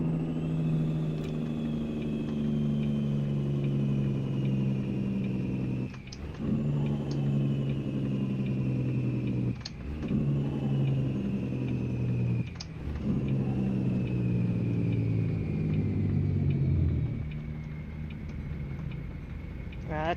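A Kenworth W900 diesel truck engine rumbles steadily in a trucking game, a deep, continuous drone with brief dips around gear changes, loud and close throughout.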